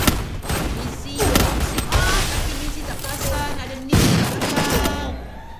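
Rapid bursts of gunfire crackle in a competitive shooter match, repeated volleys with short gaps between them under continuous commentary.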